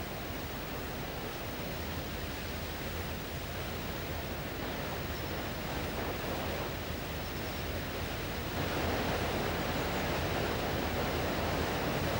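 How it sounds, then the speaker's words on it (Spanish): Streams and runnels cascading down small falls into a large river in the upper Tagus, heard as a steady, broad rush of flowing water that holds even throughout and swells slightly near the end, with no voices. "regueros superficiales que bajan en cascadas y precipitaderos, viniendo a sumarse a la corriente del gran río"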